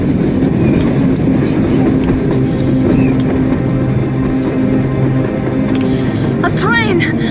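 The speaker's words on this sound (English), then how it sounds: "A train! A damn train on the surface!" A video-game train rumbles steadily past with a low droning hum and rattling, while voices talk over it; a brief high squeal near the end.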